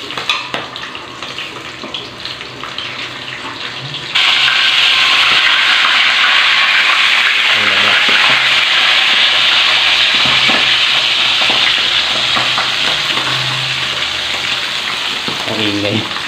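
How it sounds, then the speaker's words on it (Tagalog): Boneless milkfish (bangus) drops into hot oil, and after a quieter opening a loud, hissing sizzle erupts suddenly and stays strong and continuous to the end, with faint kitchen clatter beneath. "Kumukulong mantika."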